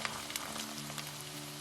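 Chopped ginger and a cup of garlic sizzle steadily in hot oil over high flame for a Kerala lime pickle, a soft, continuous frying hiss with a few faint stirring clicks.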